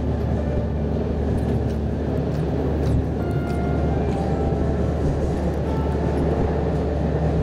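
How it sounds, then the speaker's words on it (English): A train ride in the video game Vertigo Remastered: a continuous, steady rumble of the rolling train, dense and even throughout, with no talk. "This is a cool train though."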